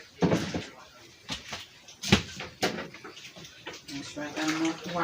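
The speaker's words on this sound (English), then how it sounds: "Add some water in here right now." Water poured into a soup pot on a home kitchen stove, splashing and running in uneven bursts with pot and utensil clatter, heard close.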